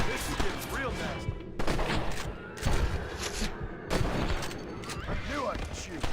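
Gunfire in Red Dead Redemption, a rapid string of booming shots and thuds with an ongoing battle in the background and a voice talking over it.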